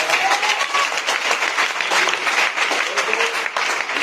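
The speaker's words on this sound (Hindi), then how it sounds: "एक बार जॉइंट डिस्ट्रीब्यूटर, इनके स्वागत के लिए एक बार जबरदस्त तालियां मारें।" Dense, sustained applause from an audience welcoming new joint distributors at a business gathering, steady and loud throughout with a few cheers over the clapping.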